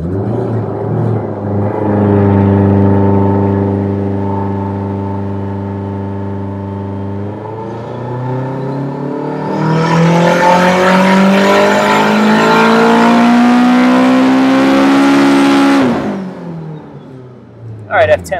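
A turbocharged Honda K20A2 engine in an EK Civic pulls hard on a dyno, a loud steady drone that rises in pitch through a long sustained run, then cuts off abruptly.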